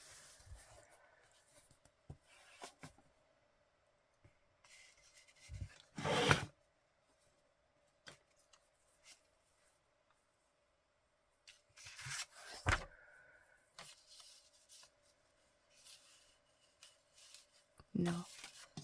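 Scissors snip through paper in a few brief, quiet cuts spaced across a hushed room, with soft rustling in between.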